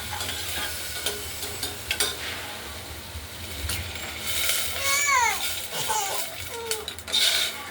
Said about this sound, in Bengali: কথা যদি শুনি নেড়ে চেড়ে জল দিয়ে দেবো।